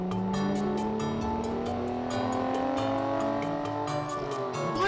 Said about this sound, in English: So, 1, 2, 3, and off we go. We'll travel in my car.